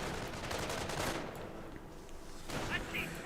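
Autocannon fire rattles in bursts in Company of Heroes, with dense rapid shots at the start, a short lull, then another burst, heard under battlefield noise.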